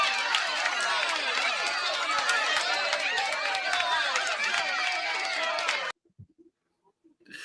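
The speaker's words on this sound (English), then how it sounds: "here's some applause" A played applause sound effect gives several seconds of dense clapping and crowd noise, then cuts off abruptly, leaving near silence with faint sounds.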